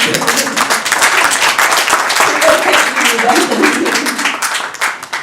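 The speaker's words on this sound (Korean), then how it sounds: "한 번 더 박수" Audience at a Korean science and technology policy forum breaking into sustained applause, many sharp claps in a loud rolling burst that tapers near the end, with voices murmuring underneath.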